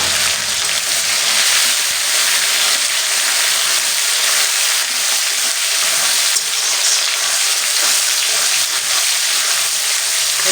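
Chopped tomatoes and a bay leaf fry in hot oil in a pan, giving a steady, loud, even sizzle and crackle with no pauses, close by.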